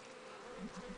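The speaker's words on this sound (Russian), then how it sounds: "Пчелы спокойные, летают не очень сильно." Honeybees drift calmly around their hive in a garden, a soft continuous buzzing hum with a few passing wingbeats rising slightly, fairly faint and with no voices.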